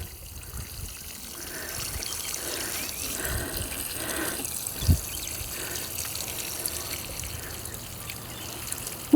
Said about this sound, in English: And I'll put about 1 gallon on each of my roses.